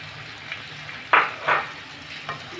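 Sizzling bursts of mung dal frying in hot oil, a few short loud crackles as it is stirred, over a steady low background hiss.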